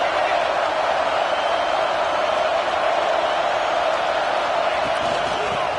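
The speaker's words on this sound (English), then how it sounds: "This crowd bringing the energy and noise early." Steady, dense roar of a large football stadium crowd at an Auburn versus Kansas State game, a continuous wall of cheering and noise with no breaks.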